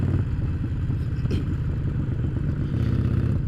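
Harley-Davidson Sportster Iron 1200 motorcycle engine running close by with a deep, steady, loping rumble and a few light clatters on top.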